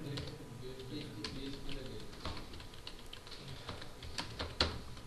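Fingers type on a computer keyboard during a WordPress coding lesson, with steady close-up clicking and a few sharper key strikes running the whole time.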